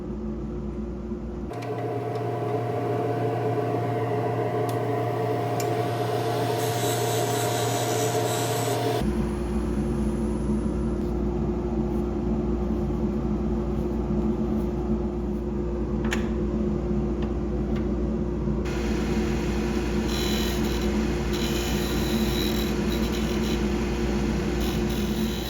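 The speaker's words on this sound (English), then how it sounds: "More peeling cuts here with the skew, trying to sneak up on that diameter" A skew chisel makes peeling cuts on a small wooden tool handle spinning on a lathe, a steady close rubbing whir over a constant motor hum that shifts tone as the cut changes, with no talk.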